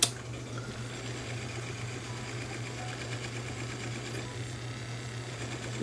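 The worn rewind mechanism of a 1958 Philips EL3516 tube tape recorder runs with a faint, steady mechanical whir and a constant low hum.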